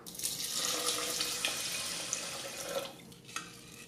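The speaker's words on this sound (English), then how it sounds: "pour in 3 cups of water measured using this cup" Water poured into an Instant Pot Duo Mini inner pot holding soaked basmati rice, a close steady splashing stream that briefly cuts off and resumes near the end.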